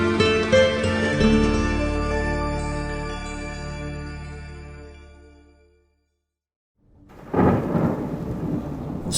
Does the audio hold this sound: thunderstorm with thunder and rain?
yes